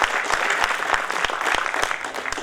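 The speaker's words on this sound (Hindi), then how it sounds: "आप तालियां बजा के मुझे बता दें।" An audience at a Hindi poetry gathering, a kavi sammelan, breaks into steady applause, many hands clapping together in a dense, lively wash with a few sharper claps standing out.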